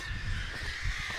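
A crow caws near a farmyard where cattle and chickens are kept, giving a short, fairly close call over steady outdoor noise.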